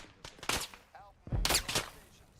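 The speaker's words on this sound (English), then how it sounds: "I'm getting shot at." Several sharp gunshots crack in the military shooter Arma, two clustered bursts close together, with a faint voice in the background.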